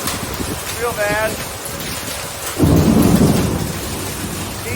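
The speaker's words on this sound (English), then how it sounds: "D-size hail so far." Hailstorm with thunder and rain, marble-sized hail pelting down: a steady roar of rain and wind, then a sudden louder burst of hail drumming and rumbling thunder swelling up in the second half, with a brief tonal sound early on.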